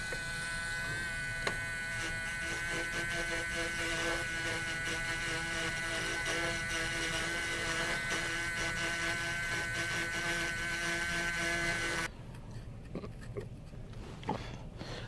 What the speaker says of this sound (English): Using a drill.